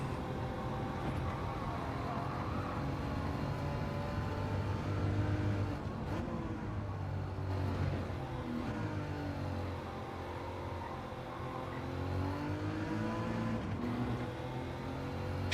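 A race car engine holding a higher gear through a corner in a time trial, a continuous mid-level drone with pitch sweeps as the revs shift, steady and moderately loud with no talking.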